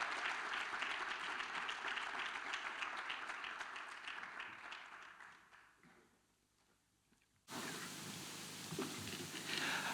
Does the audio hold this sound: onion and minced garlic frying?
no